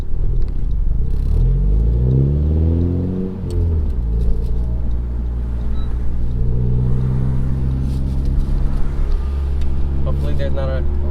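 A Honda Civic fitted with a PRL intercooler pulls away from a green light up a freeway on-ramp, its engine revs climbing and then settling into a steady rumble while people talk inside the car.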